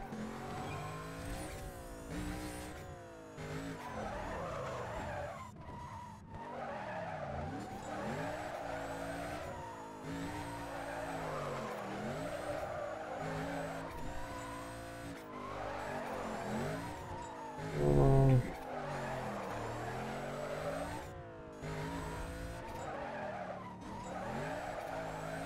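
Continuous engine roar and screeching tire skids from car drifting in the racing game Need for Speed: Carbon, with revs rising and falling and one louder skid burst near the end.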